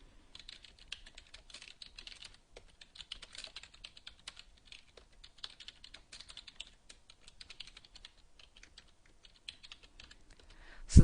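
Steady computer-keyboard typing while a SQL select query is entered, a continuous run of light clicking keystrokes close up with no voices, ending in one louder knock.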